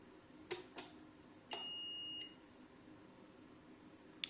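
A single quiet electronic alarm beep from a POWMR 6.5 kW 48 V off-grid inverter sounds steadily for under a second, between a few faint clicks and knocks in a quiet room.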